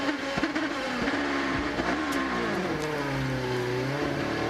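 An Indy race car at the 2005 Indianapolis 500 gets on the power, its engine rising in pitch as it accelerates over a steady background roar.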